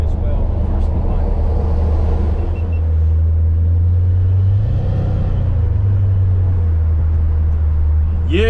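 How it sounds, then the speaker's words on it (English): Steady low road rumble and engine drone inside a restored 1955 Ford F-100 pickup cruising busy roads in North Georgia, loud and continuous with a passing swell midway and a brief squeal near the end. "Yeah, it's a lot of traffic today."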